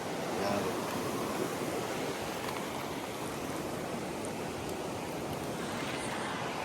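Broad, steady rush of flowing spring water at Meramec State Park, continuous and fairly close, with no break across the whole stretch.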